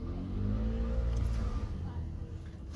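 A learner driver's car pulls away and accelerates during a driving lesson in Austria, its engine rising in a low rumbling rev heard from inside the cabin, steady and fairly loud.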